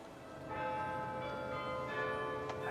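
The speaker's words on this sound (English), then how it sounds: "these bells have rung every night of Christmas week" Church bells ring on Christmas Eve, a faint, sustained, ringing tone with a couple of swells and no talk over it.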